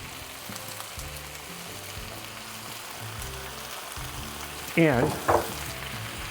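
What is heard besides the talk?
tallow, garlic and cannabis oil sizzling in a pan, stirred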